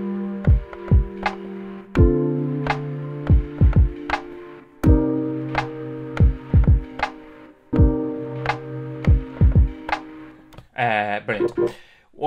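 A lofi hip hop beat played on a Roland SP-404SX sampler: steady punchy drum hits under sustained mellow chords repeat in a loop for about eleven seconds, then a short warbling filtered sweep closes it out.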